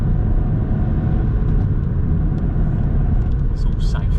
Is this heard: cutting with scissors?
no